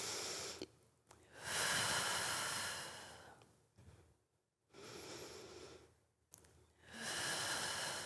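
Deep, slow breathing during a Pilates mat exercise, with long airy inhales and exhales alternating over several seconds, separated by short quiet gaps, close to the microphone.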